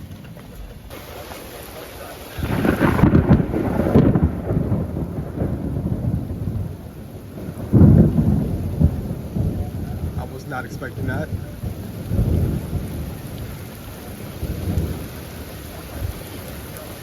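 Deep thunder rumbles and rolls in repeated loud swells during a severe thunderstorm with intense lightning. Steady heavy rain runs underneath, and a person speaks briefly.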